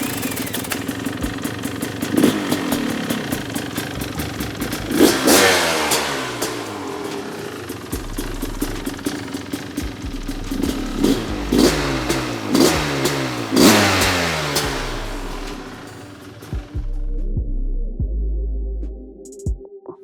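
A two-stroke KTM supermoto build fires up and revs hard, sharp throttle blips rising and falling in repeated bursts, loud and close, before settling into a brief rough idle and cutting off.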